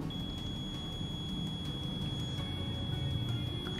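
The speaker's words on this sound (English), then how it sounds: "A green LED with a beep is indicative that a stone is a diamond, lab-grown diamond, or moissanite" A Diamond Mate A diamond tester with its probe tip pressed to a stone gives a thin, steady electronic tone that holds on for several seconds, faint over a low background hum.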